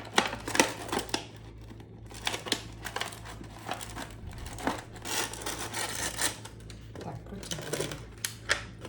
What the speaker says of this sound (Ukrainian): я буду просто манікюрними ножицями по центру, отаким чином, тарілочку свою пробивати